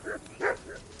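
Dog in the medieval video game Kingdom Come: Deliverance II giving a few short, soft yips and barks, three quick calls in about a second, fairly faint and close.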